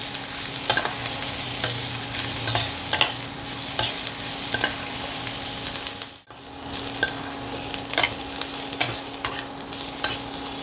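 Ingredients fry in a pan under a continuous hiss while a utensil stirs them with regular scraping taps, close and steady apart from a short dip midway, no voices.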